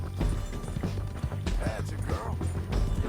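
Horse hooves clip-clop in Red Dead Redemption 2, a steady rhythmic thudding gait set against dense game ambience and mechanical creaks, loud and continuous through the whole stretch.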